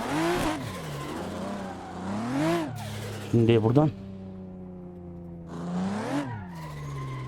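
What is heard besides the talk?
car driving and skidding in video game Assetto Corsa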